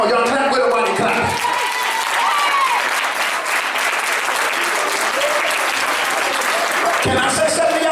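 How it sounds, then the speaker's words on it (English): A church congregation claps along, loud and fairly rhythmic, with a preacher's voice talking over the applause at the start and again near the end. "Come on, y'all clap with him while he clap."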